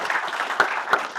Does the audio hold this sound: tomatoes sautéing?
no